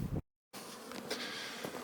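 Honey bees buzzing at an open beehive while burr comb is removed, a steady close droning swarm after a brief silent gap.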